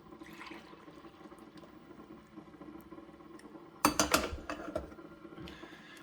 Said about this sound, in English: so let's pour ourselves a cup of coffee